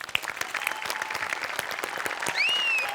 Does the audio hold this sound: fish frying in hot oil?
no